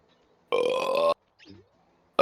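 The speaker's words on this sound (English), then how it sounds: "I can burp on command" One loud, close burp lasts about half a second, then a short grunting sound follows. A second burp starts right at the end.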